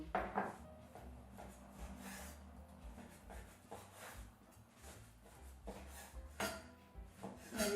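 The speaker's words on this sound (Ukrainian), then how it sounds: "нарізаю ось такими невеликими шматочками." A knife chops and scrapes boiled meat into small pieces against a wooden board in a series of uneven strokes, close by, with faint kitchen clatter and no talking.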